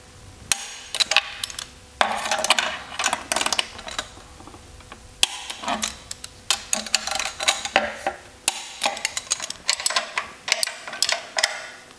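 Torque wrench clicking as cylinder head bolts are tightened to 25 newton meters on an air-cooled Porsche engine, a series of sharp close ratcheting clicks in irregular bursts with brief pauses between.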